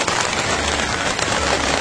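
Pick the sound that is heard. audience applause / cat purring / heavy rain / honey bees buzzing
heavy rain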